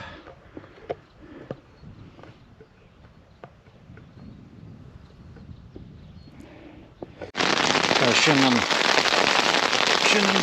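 Heavy rain suddenly drums on a tent pitched at about 2132 m in the Balkan mountains. It is a loud, dense, steady patter that swamps everything, following a quieter stretch with faint talk and scattered drops.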